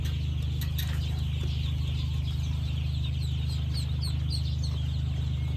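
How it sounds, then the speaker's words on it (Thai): A pen of Khaki Campbell laying ducklings peeps and chirps continuously at close range, many small high calls overlapping above a steady low mechanical hum. "ลูกเป็ดไข่รับประกันเพศเมียสายพันธุ์กากีกัมเบล"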